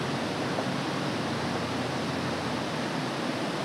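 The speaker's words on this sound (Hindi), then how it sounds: "अंग्रेजों के ज़माने की नहर आपको दिखाई दे रही होगी जिसमें पानी बह रहा है" Water flowing through an old British-era canal near a bridge by the Gaula river at Kathgodam, a loud, steady, uninterrupted rushing roar with no talk.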